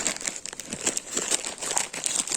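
Plastic packaging crinkles and crackles continuously as it is pulled open, close and fairly loud, with no talking.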